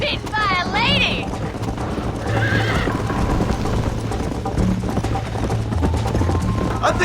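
Horse galloping in a video game race, rapid clip-clop hoofbeats running throughout with a sharp whinny at the start and another neigh shortly after, under game music and voices.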